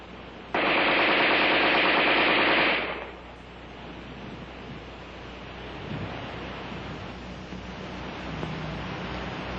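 An Armalite AR-10 rifle fires a loud, rapid automatic burst of about two seconds during a sand test, followed by a lower, rumbling background wash.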